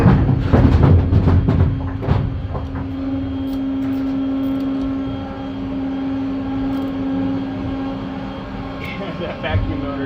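A loud, steady mechanical motor whine with a strong sustained hum, rough and droning for several seconds, starting with clattering noise, from an unhealthy vacuum motor on an A2 bowling pinsetter.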